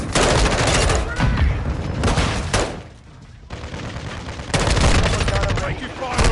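Call of Duty team deathmatch gunfire, M4 rifle with a Singularity blueprint, rattles in dense, loud overlapping bursts, dips briefly in the middle, then resumes at full intensity.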